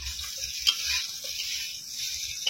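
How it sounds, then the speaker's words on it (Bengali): Hail falling on a tin roof during a thunderstorm, a steady crackling patter like frying, fairly faint and continuous, with a couple of sharper impacts standing out. "টিনে ঢং ঢং করে ছাই ভাজার মতো আওয়াজ হচ্ছে।"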